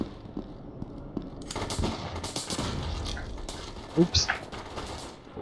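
Bursts of rapid gunfire crackle in short volleys in the shooter game Brain Out, with a brief spoken exclamation and a few sharp louder shots near the end.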